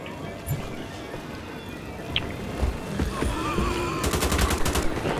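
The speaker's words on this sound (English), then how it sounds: "I'll use my assault weapon a bit more." Assault weapon gunfire in Wolfenstein: The Old Blood, a rapid burst of shots near the end over loud, dense game ambience and combat noise.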